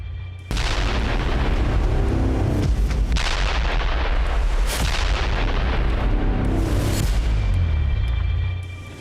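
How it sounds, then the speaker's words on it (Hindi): Heavy booming blasts from a US bomber strike on a missile base in Isfahan, Iran, roll and rumble continuously, loud and close, with several surging peaks of explosive noise. "बारूदी चोट और इसके बाद डरा देने वाला विस्फोट।"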